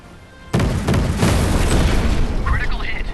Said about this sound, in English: Critical hit. Reporting ammo detonation. Enemy ship destroyed.